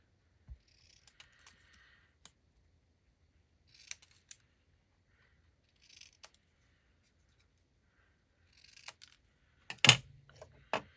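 A few quick scissor snips cutting paper for a mini junk journal, sparse and close, with a sharper cluster of snips near the end in an otherwise quiet room.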